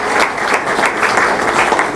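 An audience at an education results announcement claps for teachers, a brief burst of loud, dense clapping from many hands.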